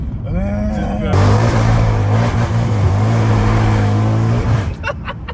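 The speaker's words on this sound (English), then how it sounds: "It's like a really slow, painful downshift, like it's letting off the clutch" A wrecked Mercedes C63's engine drones loud and close through a slow, dragging downshift, its pitch held steady and then wavering before cutting off sharply near the end.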